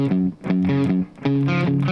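Electric guitar part from a song, played as a separate added line in a series of sustained distorted chords with short gaps between them, loud and up close.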